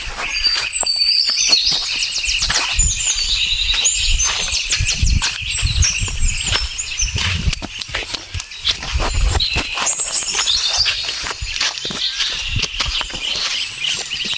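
A colony of bee-eaters at their nesting holes in sandy ground, many high chirping calls overlapping continuously, with nearby footsteps and crunching on sand throughout, no talk.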